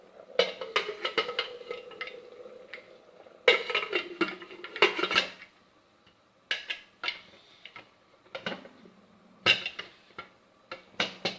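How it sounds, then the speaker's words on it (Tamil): Metal lid of a pressure cooker handled and closed over boiling capsicum rice: repeated sharp metallic clanks and clicks in irregular bursts, close and fairly loud, with brief pauses between them. "மூடி வச்சிடலாம் குக்கரை"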